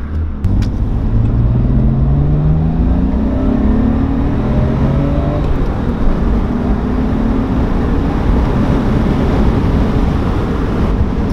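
Loud, steady engine and road rumble from a pickup truck on a test drive, the engine note rising slightly under acceleration early on, then holding a constant drone.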